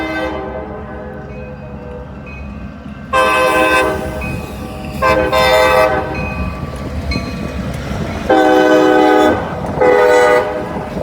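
A local freight train rolls past on a windy day, sounding its horn in several loud blasts over a steady rumble of wheels and wind.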